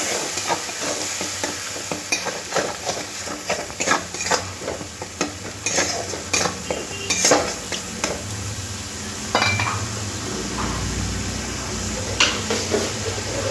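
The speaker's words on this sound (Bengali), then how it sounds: "জলটা দিয়ে মশলাটাকে খুব ভালো করে কষে নিতে হবে যাতে মশলা দিয়ে কাঁচা গন্ধ না থাকে" Spice masala cooking down with a splash of water in a pan for Bengali aar fish curry, a steady sizzle up close punctuated by regular scraping strokes of a spatula against the metal pan.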